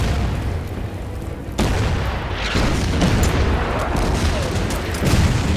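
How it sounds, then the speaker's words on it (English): Artillery fire in the World War II strategy game Order of Battle: Kriegsmarine: heavy booms land in close succession, with loud rumbling blasts and lingering reverberant rumble between them. "Let's open fire with the artillery"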